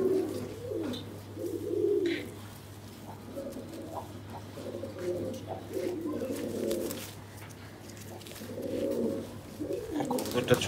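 A pigeon gives repeated low, throaty coos in bursts while its wing feathers are being clipped in a loft, with a steady low hum underneath and a voice talking intermittently.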